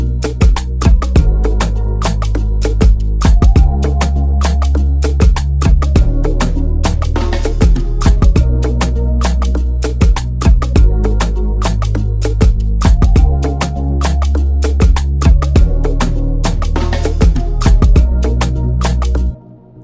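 An afrobeats bass line produced in Logic Pro X plays loud and up front in a full beat, with deep, punchy low notes locked to crisp, steady percussion hits and a brief cut at the very end.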